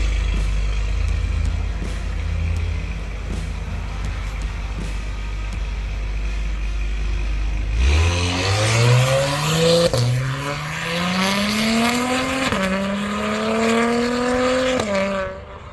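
An Acura TLX Type S fitted with downpipes idles with a deep rumble, then revs and pulls hard, its engine note climbing steadily through several gear shifts, loud and close.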